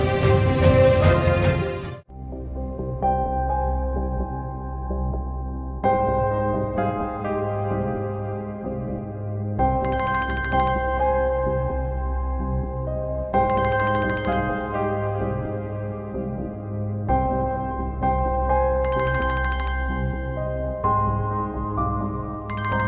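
A melodic phone ringtone plays loudly in repeating phrases of bell-like tones, sustained for a long stretch with no voices.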